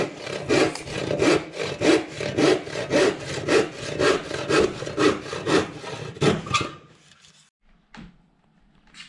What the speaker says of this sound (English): in the top 2 corners of the third wall board, cut out a 42 by 42 millimeter square for the beams